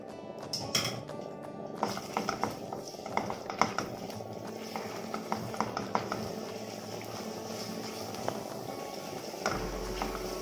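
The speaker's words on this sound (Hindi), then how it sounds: "घी के साथ में इसको पका लेंगे," Bread burfi mixture cooking in ghee in a pan, with steady close sizzling and bubbling broken by frequent clinks and scrapes of a spoon against the metal pan.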